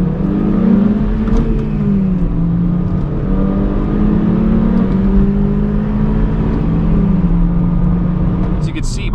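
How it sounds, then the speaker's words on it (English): A 2010 Honda Civic LX Sport with the R18A1 engine and 5-speed manual and a 2023 Honda Civic Sport manual hatchback accelerate, overlaid engine drones rising and shifting steadily, fairly close, with talk over them. "an interesting comparison in acceleration would be to my old Civic, which is a 2010 Honda Civic LX Sport 5-speed manual"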